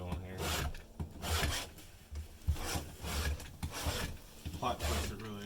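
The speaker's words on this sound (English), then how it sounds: "the round files sharpen the teeth" A round file rasps across chainsaw chain teeth in a steady series of close, scraping strokes, roughly one every half to full second, with no talk over it.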